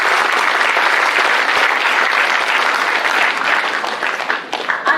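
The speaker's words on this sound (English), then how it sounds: "So big round of applause for Salva." Dense, sustained applause from an audience at a startup expo pitch event fills all five seconds, steady and close with no pauses.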